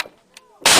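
A single loud, harsh blast of gunfire from combat in Helmand province crashes in near the end, following a brief quiet stretch with faint murmurs.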